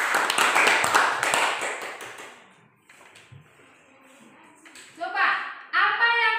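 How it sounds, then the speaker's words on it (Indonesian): Classroom of children clapping together, a loud burst of dense claps at the start that fades out, followed by a teacher speaking. "Tepuk tangan."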